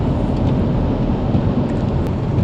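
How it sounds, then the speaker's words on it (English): Heavy thunder rolls during a hail storm in California, a loud sustained rumble over steady rain and hail drumming on surfaces, with no talking. "I'm afraid I'm gonna miss some nice thunder"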